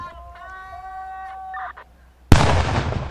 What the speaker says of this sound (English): Each controlled explosion is a hidden danger removed, a limb not lost, a life not cut short.